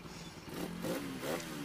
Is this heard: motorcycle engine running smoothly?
yes